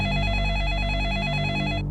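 Classic telephone bell ringing in a Fox 29 TV promo, a loud, close, rapid trilling ring that runs steadily for about two seconds before cutting off abruptly, alone without voices.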